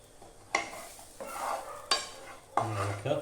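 Chicken masala and chilli powder roast in a pan as a spoon scrapes through them in four short, close strokes, each followed by a soft sizzle at low volume.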